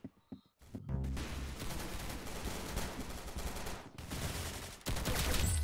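Gunfire in the Roblox shooter game Arsenal rattles in dense, rapid automatic bursts, loud and continuous after a short quiet opening, with a brief break before resuming.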